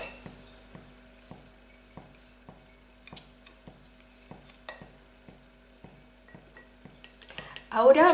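A metal spoon taps and clinks repeatedly against a jar while scooping a tablespoon of Vaseline for an eye-contour cream, light regular ticks close by, ending in a louder burst of scraping and clatter.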